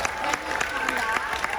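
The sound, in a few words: cruise ship audience applauding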